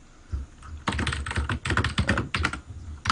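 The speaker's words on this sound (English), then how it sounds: "Why are we typing?" Fast, uneven typing on a computer keyboard, close and clear, with rapid clusters of key clicks and brief pauses between bursts.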